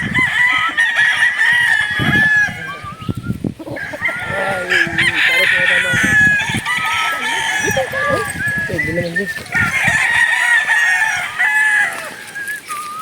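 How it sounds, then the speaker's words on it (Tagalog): Several chickens cluck and squawk loudly nearby while a rooster crows repeatedly over the din, a busy, noisy flock sound lasting throughout. "Wag muna maingay mga manok."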